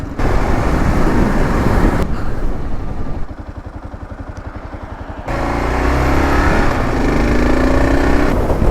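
A Kawasaki KLR650 single-cylinder motorcycle accelerates toward highway speed, engine loud and rising through gears, with a quieter throbbing stretch partway through before the roar and wind noise return.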